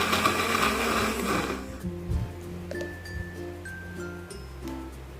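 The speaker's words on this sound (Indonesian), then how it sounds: "Selanjutnya yang di blender bawang putih, jahe, kunyit, kemiri, lada bubuk, ketumbar," Kitchen blender grinding garlic, ginger, turmeric, candlenut, ground pepper, coriander and salt into a spice paste, a loud steady whirring drone that cuts off after about two seconds, followed by quieter clinks and handling noises.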